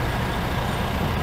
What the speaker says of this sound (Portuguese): Mais dois carros da Águia Branca chegando aí.